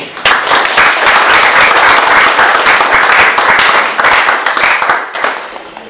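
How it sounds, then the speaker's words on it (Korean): A loud, full round of applause in a small classroom gathering welcoming a lecture by former North Korean diplomat Thae Yong-ho, dense clapping holding steady for several seconds. "크게 박수 한번."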